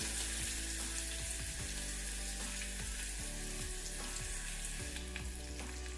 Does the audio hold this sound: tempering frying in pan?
yes